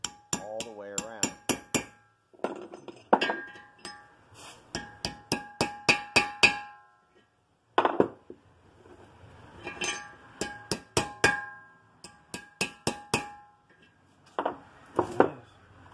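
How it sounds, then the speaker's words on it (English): Sharp metallic hammer taps seat a front wheel bearing seal on a 1999 Nissan Maxima, struck in quick bursts of several blows with short pauses between, close and clear with no talking. "You just tap them around the outer perimeter until they seat all the way around."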